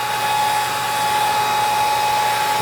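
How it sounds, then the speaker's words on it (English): Hair dryers run on a low setting to dry a wet, freshly cleaned carpet, giving a loud, steady whirring hum with a high motor whine, continuous and unbroken, with no voices. "Let the hair dryers on low."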